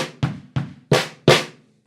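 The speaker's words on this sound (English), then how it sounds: "the intro fill for this song starts off with a snare drum, is followed by a couple of bass drums, and then is followed by 2 snare drums" Drum fill opening a song: a snare hit, two bass drum thumps, then two louder snare hits, five sharp strokes in quick succession played alone.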